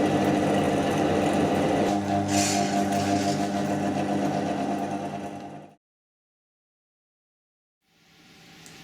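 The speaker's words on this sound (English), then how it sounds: "This is the second part video of the honey extractor. I'm going to show you how it runs" A honey extractor runs with a steady mechanical motor hum, then winds down and stops, leaving silence before a faint whirring sound returns near the end.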